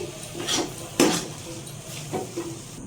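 A metal spoon scrapes and knocks against a wok while cooked coconut mixture for narkel naru is moved into a bowl, a few distinct clinks and scrapes close by in a quiet kitchen.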